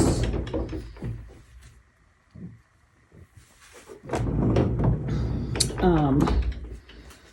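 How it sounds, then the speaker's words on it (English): Hanging barn doors in a rental cabin slide along their track with wooden rumbles and a thunk, mixed with room noise while a person talks nearby. "There's like hanging barn doors."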